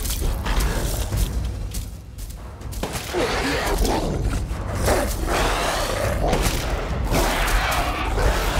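Gunfire in the video game Resident Evil Village: a run of loud, sharp shots bursting over a dense, rumbling game soundscape, with several heavy blasts spaced unevenly across the stretch.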